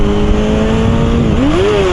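A very old motorcycle with a sloppy gearbox revs loudly and close by, its engine tone holding steady and then climbing sharply near the end.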